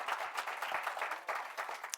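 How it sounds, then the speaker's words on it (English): A small audience at a Carnegie Hero Medal ceremony claps softly for a couple of seconds, the scattered hand claps heard at a distance with no voices over them. "Yep, you can clap."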